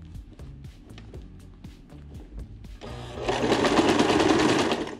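Sewing machine stitching skirt fabric, a few light mechanical ticks first, then a steady close whirring run of stitches for the last couple of seconds.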